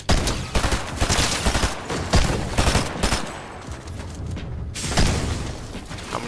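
Rapid bursts of gunfire from the video game Fortnite crackle in dense, loud volleys, overlapping shots with brief pauses between the clusters.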